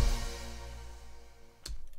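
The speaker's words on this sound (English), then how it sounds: "every track for TV has to have is a sting ending" A sting ending closes a documentary TV music track: sustained tones hold and fade, then a sharp single hit lands near the end and rings out, with no voices over it.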